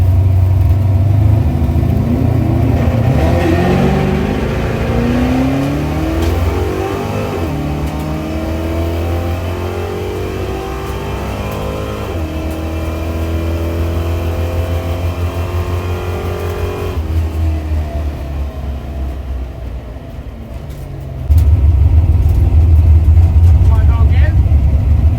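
A Fox body car with a manual transmission revs at a track day, engine pitch rising and falling through gear changes, near and loud under steady talk.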